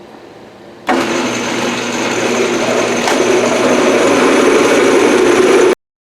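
A metal lathe bores out a hole with power feed running on the compound, giving a loud, steady machine drone with a faint whine that starts suddenly and holds for about five seconds before stopping.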